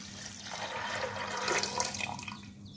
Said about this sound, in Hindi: और 4 कटोरी पानी।